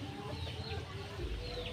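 Soft clucking from several Kate chickens nearby, with faint bird calls over a low, constant background hiss.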